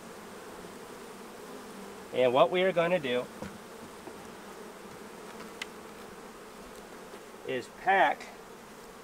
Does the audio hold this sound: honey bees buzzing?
yes